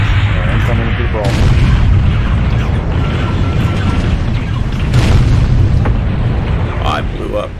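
A mech blowing up in the MechWarrior Online video game, a loud heavy booming blast with rumbling explosions and weapon fire continuing around it.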